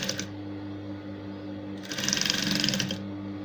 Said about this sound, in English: so you can see how easy I'm able to sew the strip